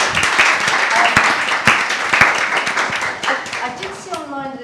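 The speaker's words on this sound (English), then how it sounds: "That is a round of applause" A panel audience at an entrepreneurship event breaks into applause, with loud close claps over a busy crowd patter that thins toward the end as a voice starts speaking.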